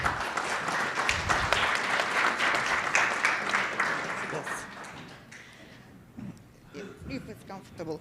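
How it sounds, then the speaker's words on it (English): Lively applause from a conference audience welcomes a speaker at a London business event, loud and dense for several seconds, then tapering off into scattered claps and voices as someone begins talking. "Please give a round of applause."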